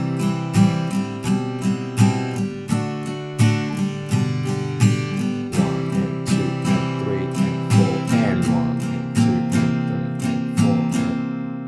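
An acoustic guitar strums the chord progression of a song in a steady, even rhythm with a chord change at the end, loud and close with no voices.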